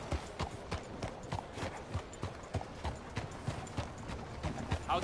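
A horse galloping in Red Dead Redemption 2, its hooves pounding in a quick, steady rhythmic clip-clop under a constant wash of ambient noise, fairly close and continuous.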